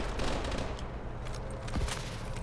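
Gunfire from the Call of Duty: Advanced Warfare video game, heard as a fairly quiet burst of overlapping shots and rapid fire mixed into a dense, noisy background, with no voices.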